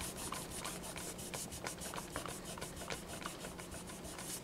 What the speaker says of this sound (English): So we're going to scrub that whole thing.